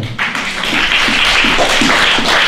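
A church congregation applauds the Lord, a loud sustained wash of clapping with a steady rhythmic beat running through it in a reverberant hall.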